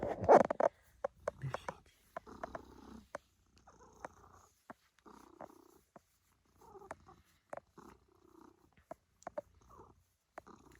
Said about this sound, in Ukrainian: Тільки подивіться, як воно мурчить, яке воно лагідне.